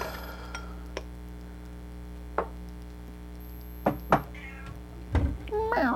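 A domestic cat meows a few times, short cries near the end, amid kitchen sounds while fajita beef is cooked, with onion and poblano strips and a lime being prepared; light clinks and knocks of utensils punctuate the moderate room tone.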